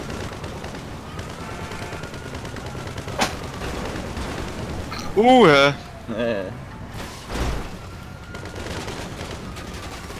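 Grand Theft Auto-style video game gunfire cracks in a few sharp bursts, with people talking throughout.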